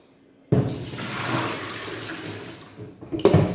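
Salted pigtail rinsed under a running tap, the flow starting abruptly and rushing steadily for a few seconds, close and continuous, before cutting off with a final splash.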